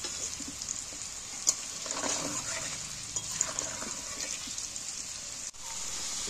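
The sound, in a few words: potatoes frying in oil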